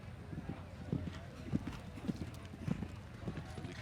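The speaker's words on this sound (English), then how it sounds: "The horse jumping beautifully up to that point." Show-jumping horse hooves striking the arena footing in a steady rhythmic clip-clop, four or five thuds about half a second apart, moderately close, with an announcer talking over them.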